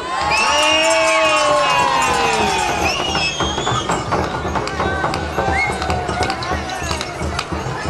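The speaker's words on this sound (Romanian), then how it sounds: "mânați voi în braze, măi, și strigați odată, hei!" A crowd gathered for a Romanian folk custom shouts together, loud and close, with voices rising and falling over a dense rumble of people and scattered clatter, and speech running through it.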